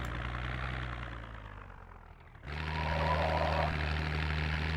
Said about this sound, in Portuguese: O motor não tá tão bem, bom assim como vocês estão vendo, mas é um carro.